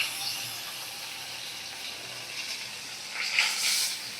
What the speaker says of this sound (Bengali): গরম তেলে আমি সুন্দর করে ভাজা করে নেব।